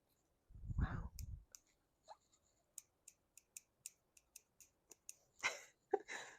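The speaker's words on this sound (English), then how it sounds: "Are you hearing that? That's the sound of a very pretty scissor." Small scissors snip repeatedly, a series of light, crisp clicks spaced about evenly, with a soft rustle at the start and a few quicker snips at the end.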